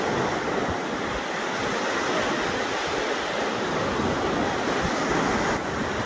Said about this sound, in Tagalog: Dito kalalakas yung alon.